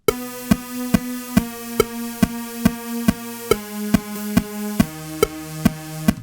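Airy programmed synth part on the Kitchen Club preset, playing a steady pulsing pattern of evenly spaced, sharp rhythmic hits over sustained chordal tones that shift pitch partway through, loud and alone with no voices.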